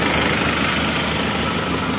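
An Isuzu Panther diesel engine idles with a turbo leak, giving a steady, close, even rumble and hiss that holds constant throughout without a break.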